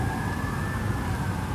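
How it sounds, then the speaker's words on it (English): Distant emergency siren wailing steadily through a city during a thunderstorm, carried over a dense roar of rain and traffic that stays loud and unbroken throughout. "I don't know why there were so many sirens."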